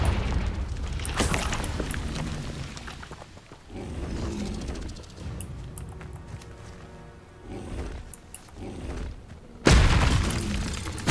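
Confrigo fire spells exploding in the video game Hogwarts Legacy: continuous booming blasts and crackling bursts, ending in a sudden loud explosion near the close, with galloping thumps running through the mix.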